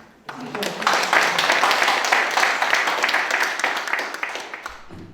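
Sustained audience applause at a Democratic Party South Jeolla provincial chapter evaluation forum on the April 15 general election, a dense crowd of clapping that starts abruptly, holds steady and loud for about five seconds, then cuts off.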